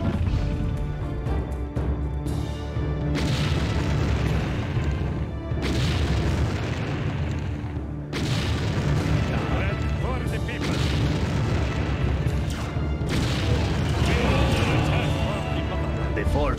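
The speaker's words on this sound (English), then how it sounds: "fortress is destroyed, but the traitors refuse to emerge from the bunker deep beneath it" Explosions tear through a fortress in the Empire Earth strategy game, a dense, continuous rumble of booms and crashes lasting throughout with no clear pauses, while speech runs alongside.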